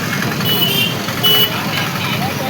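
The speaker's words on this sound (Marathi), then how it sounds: "आडूळ मध्ये ट्रॅफिक जाम झाली आज" A traffic jam at a crowded market in Adul: a dense, steady hum of idling trucks and cars with a couple of short reversing beeps, under talk.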